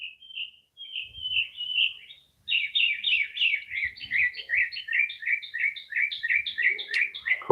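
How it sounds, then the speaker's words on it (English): Small birds chirp and tweet in quick repeated phrases, fairly close, with faint low thumps and rustles underneath. "And you hear the birds too?"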